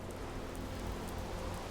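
Steady, even rain hiss from the survival video game Terra Firma, soft and continuous with no voices.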